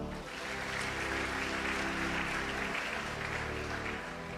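A church congregation applauding and cheering for the Lord, a steady loud wash of clapping with a sustained tonal hum beneath, continuous for several seconds.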